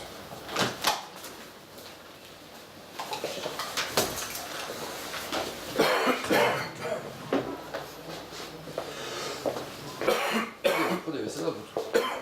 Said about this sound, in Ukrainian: у всех этот кашель такой родной, сказочный